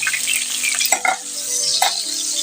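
A rice flour snack sizzles in a pan as it is flipped over, a bright continuous fry with a few scraping turns of the spatula midway, close and fairly loud.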